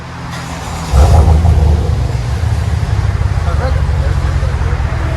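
A GMC Sierra Denali pickup with a 6.2L V8 and Flowmaster exhaust rumbles close by, jumping to a deep, louder growl after a quiet start and then settling into a steady, throbbing idle while voices talk over it.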